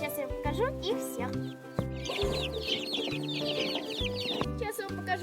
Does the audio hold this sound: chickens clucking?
yes